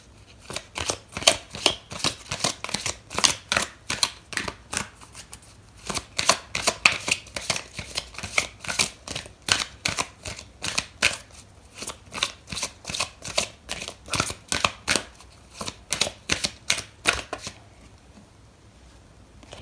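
Tarot cards are shuffled in steady, rapid riffling strokes, each a crisp papery snap. The shuffling runs close and continuous for most of the span, with brief pauses, then stops near the end.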